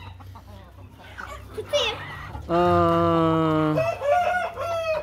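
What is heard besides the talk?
chicken clucking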